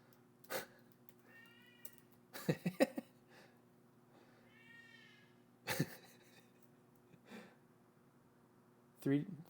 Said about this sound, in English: Do you hear my cat meowing in the background?